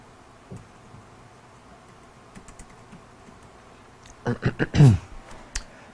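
Keystrokes on a computer keyboard, faint scattered taps at first, then a quick flurry of louder clicks near the end alongside a brief vocal sound.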